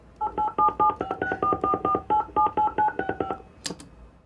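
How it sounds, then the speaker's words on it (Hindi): A rapid series of touch-tone beeps as a phone number is keyed in, about a dozen evenly spaced tones, close and clear, ending with a brief click. "मैं फोन मिलाया तो आप उससे बात करना"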